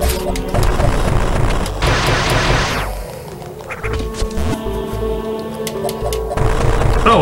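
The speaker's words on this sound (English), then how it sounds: "Super missile." Super missile blasts go off in the AM2R video game, heavy booming impacts mixed with sharp crashing debris, set against a loud electronic game soundtrack. The bursts are separated by brief quieter stretches, and no voice is heard.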